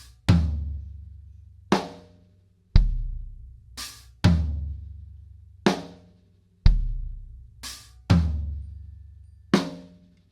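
Worship drum cover pattern where a stack cymbal stands in for an electronic snare: deep kick thumps alternate with sharp, trashy stack crashes in a steady groove, loud and close, with no voices.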